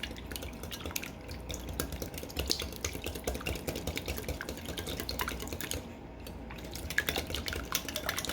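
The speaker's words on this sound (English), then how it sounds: "Look at that whisk action." Eight eggs whisked by hand in a bowl, a busy run of quick metallic clinks and scrapes against the bowl's sides, steady and close throughout with no talking.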